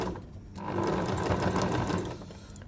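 A sewing machine stitches through about four layers of cotton and two of toweling in quilt binding, one short steady close run.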